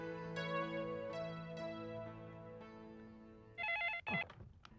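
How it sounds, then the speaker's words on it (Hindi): A telephone rings during an outgoing call in a Hindi TV drama scene, with steady tones followed by a louder, brighter burst of ringing near the end and no talking. "तो मैं अक्षत को फोन करूँ."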